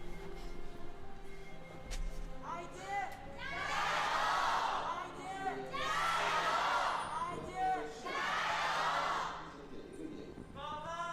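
Esports arena crowd at an LPL League of Legends match, IG versus FPX, roaring and cheering for IG in three big swelling waves of whoops and shouts, loud and sustained with brief dips between.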